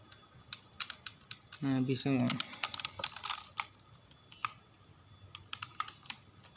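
Typing on an NYK K-02 mechanical keyboard: a run of sharp, close clicky keystrokes in quick irregular bursts, with a person speaking briefly over the start of the typing.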